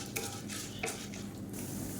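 A spoon stirs chana dal roasting in hot oil with mustard seeds and urad dal, giving soft scraping strokes and a light sizzle in a pan, steady and close without talk.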